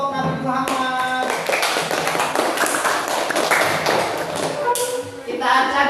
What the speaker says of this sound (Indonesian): Beri tepuk tangan buat kelompok Nabi Muhammad